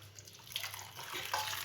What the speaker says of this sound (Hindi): पानी गर्म करके मैंने इसमें डाल दिया